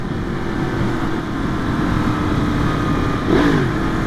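A Yamaha FZ-10 motorcycle rides along with a steady, loud engine drone and wind rush from start to finish, rising briefly near the end as the throttle opens.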